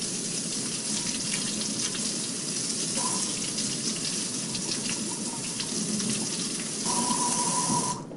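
A tap runs steadily into a sink as hands are rinsed in a lab setting. The broad, even rush of water lasts throughout with slight splashy variation, close and continuous, and no one speaks.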